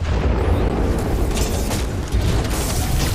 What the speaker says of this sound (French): Attention, largage de titan.